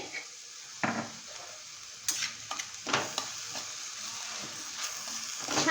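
Radish and chana dal sabzi is stirred in a pan, a soft low sizzle broken by several sharp scrapes and knocks of a spoon against the pan, close and fairly quiet.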